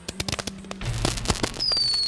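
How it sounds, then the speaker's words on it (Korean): Firecrackers bursting all around on a beach at night, a rapid string of sharp cracking pops followed by denser overlapping bangs and a rising whistle, close and loud. "사방에서 터뜨리는 이 폭죽 말입니다."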